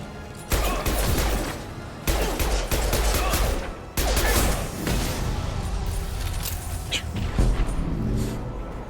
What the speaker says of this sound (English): the Widow anti-material rifle is way too much damage in this mission